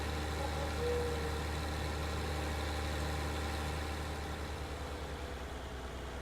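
Fendt tractor engine in Farming Simulator 19, a steady low diesel idle drone that holds continuous and loud, with no talk.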